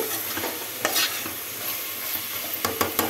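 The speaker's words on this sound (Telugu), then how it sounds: "అల్లం వేగింది" Ginger frying in a pan, with a close, continuous sizzle broken by several scraping stirring strokes.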